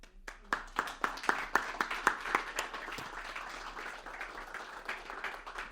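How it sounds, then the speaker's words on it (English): Audience applause at a community talk on women's heart health, a run of moderately loud, distinct claps that start crisp and rhythmic, then blur into a softer, thinning patter. "Good claps."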